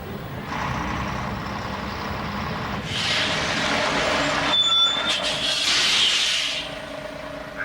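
Truck engine drone from the Euro Truck Simulator driving game, a steady hiss-laden rumble that swells after a few seconds, with a brief air-brake-like burst and high tonal whines mid-clip, no voices.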